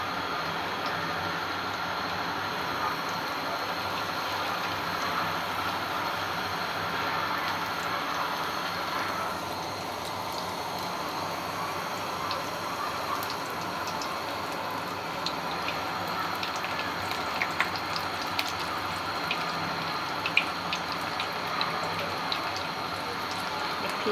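Small potato slices fry in very hot oil on medium heat, a steady close sizzling hiss with scattered tiny pops and crackles that continues evenly without talk.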